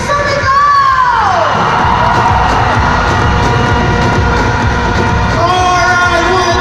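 Large crowd at a Sunday morning gathering for Santé Barley shouting and cheering loudly in a sustained roar, with whoops rising above the din.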